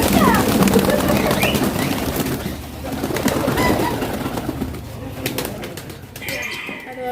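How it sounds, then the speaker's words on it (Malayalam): Pigeons at Palayur Nursery in Chavakkad coo in soft, repeated calls close by, over a busy background of other bird sounds. "ഇതിൻ്റെ ഉള്ളിലൊക്കെ ഇഷ്ടംപോലെ പ്രാവുകൾ"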